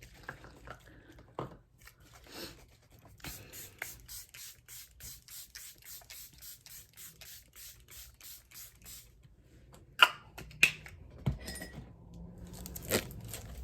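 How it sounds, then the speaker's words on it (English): Quiet, rapid, evenly spaced spritzes of a Charlotte Tilbury Airbrush Flawless Setting Spray pump, repeated many times in a row, with a few sharper clicks afterward. "All we need is setting spray"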